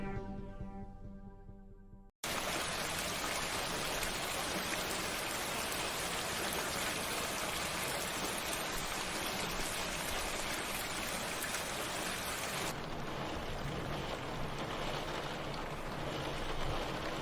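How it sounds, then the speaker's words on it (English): Steady, loud rain falls outdoors, a dense unbroken wash that starts abruptly after a brief quieter stretch of a different sound and continues with slight changes in texture. "It's raining outside."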